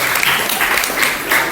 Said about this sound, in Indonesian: kasih tepuk tangan buat kelompok pertama